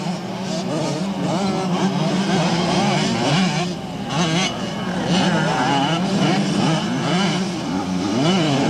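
Motocross bikes, including a white Yamaha, race on a dusty dirt track at the 1990 Bathurst King of Dirt event, their engines droning and revving steadily throughout, loud and continuous.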